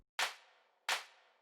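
Two hits of an organic-sounding clap layer for a deep house beat, each a sharp, bright snap with a short fading tail, spaced about 0.7 seconds apart and heard alone.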